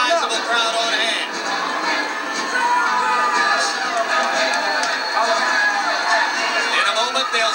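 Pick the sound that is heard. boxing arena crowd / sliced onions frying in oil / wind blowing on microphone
boxing arena crowd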